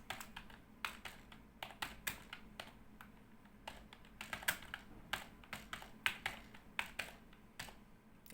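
Someone types code on a computer keyboard with quick, irregular runs of close, crisp key taps and brief pauses between bursts, with no voices.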